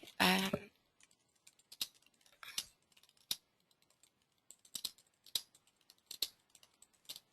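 Typing on a computer keyboard, sparse irregular clusters of close, crisp key clicks with quiet pauses between, preceded by a brief burst of speech.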